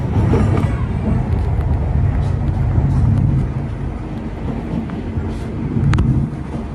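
Batavia economy train pulling into Klaten station, a steady loud low rumble of wheels and carriage with some clatter, heard from inside the coach, with faint voices in the background.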